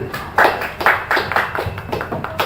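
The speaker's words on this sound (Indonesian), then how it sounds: "Tepuk tangan untuk Ubu." A small audience claps for Ubu after a poem is read at an Indonesian cultural event, giving a brief run of evenly spaced claps close to the microphone.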